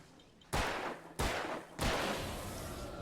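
Three loud gunshots ring out in Alan Wake, evenly spaced about half a second apart, each a sharp crack trailing into a long echoing decay, with no voices.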